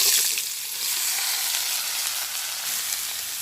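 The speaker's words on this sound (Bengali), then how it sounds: "তেল গরম হয়ে গেছে, আমি এখন এই যে সাতপতিটা দিয়ে দিই" Satpati vegetable frying in hot oil with whole garlic cloves, a loud, dense, steady sizzle that runs throughout with no talking.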